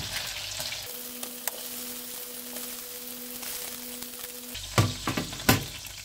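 Food frying in hot oil, a steady bright sizzle broken by a few sharp clinks and a louder burst of spattering near the end, with a faint electronic hum running through the middle.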